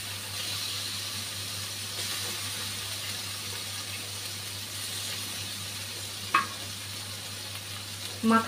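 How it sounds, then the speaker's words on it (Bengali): Rui fish pieces sizzling steadily in hot oil after the spiced masala, a continuous close crackle and hiss with a couple of brief louder clatters near the end. "এখন মাছগুলা দিয়ে দিচ্ছি।"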